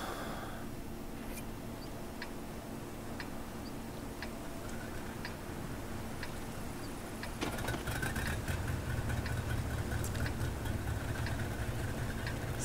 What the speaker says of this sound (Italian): Sembrano motori a benzina dal suono.